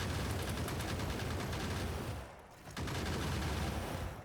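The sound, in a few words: gun turrets firing in Factorio video game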